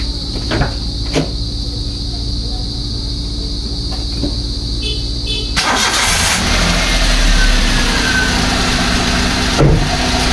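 A car engine cranks and starts again after a coolant change, with clicks and a clunk before the engine catches, then settles into a loud, steady idle close by.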